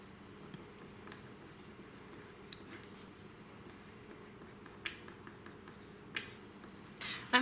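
Pen or pencil writes a calculus answer on paper, with faint soft scratching and occasional light taps close by in a quiet room.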